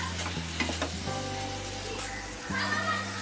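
Chopped cashews and almonds sauté in a hot pan for a Maharashtrian banana halwa, giving a steady close sizzle with scraping stirs and utensil clinks and no talk.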